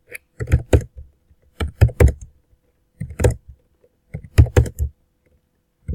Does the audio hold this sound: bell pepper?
no